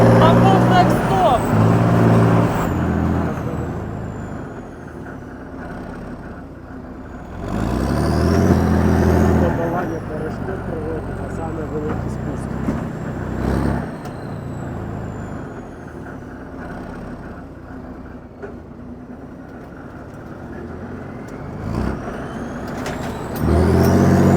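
A PBV 302 armoured personnel carrier drives at speed with heavy engine roar and surging revs that rise and fall, up close and loud, with people talking over it at times.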